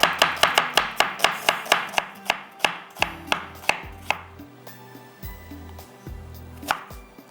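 A knife chops an onion on a board in about a dozen quick, sharp, evenly spaced strokes. The cuts slow and fade into a few softer taps, with a faint background hum and no speech.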